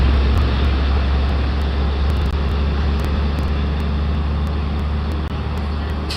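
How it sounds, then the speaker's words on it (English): A heavy truck idles and rumbles nearby during railroad signal replacement work in Malta, Illinois, with a steady low engine drone and traffic-like noise running unbroken throughout. "Get the truck in place there."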